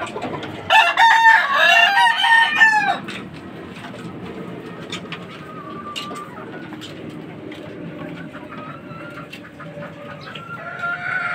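A gamefowl fighting rooster lets out one loud, close crow lasting a couple of seconds, followed by softer scattered clucks and chirps from other birds in the yard.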